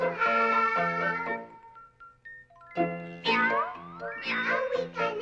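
Cats meow in long, tonal calls, one drawn-out cry followed by several rising, overlapping meows, loud and close with no talking.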